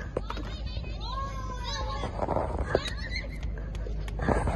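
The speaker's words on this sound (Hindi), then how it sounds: "फुल बस्ती में आ गया घोड़ा" A horse on a private farmhouse property neighs with a rising, wavering whinny, heard outdoors amid children playing and people talking excitedly, with some scattered clatter around it.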